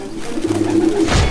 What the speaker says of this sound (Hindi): तभी उसने देखा कि एक कबूतर बुरी तरह जमीन पर गिरा और फड़फड़ा रहा था